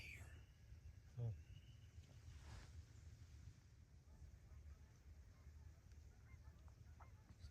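Canada geese honking over a November marsh, faint and distant calls scattered through steady low wind noise, with one brief nearer honk early on.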